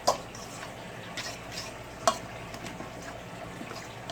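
Tuna salad being stirred in a bowl, a close, soft, wet mixing sound punctuated by a few sharp spoon clinks against the side, steady with no talking.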